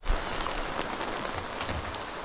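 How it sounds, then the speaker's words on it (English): Rain falling outdoors, a steady broadband hiss of drops with a few louder patters, constant and close throughout, without any voices. "Here come the rain"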